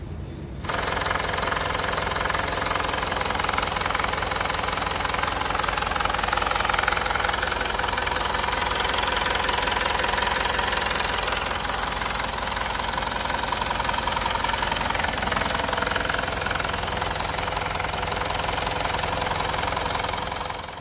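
Car engine idling after a repair for an engine rattle, a loud, steady, close running drone with a faint rhythmic knocking beneath it, continuous and unchanging throughout.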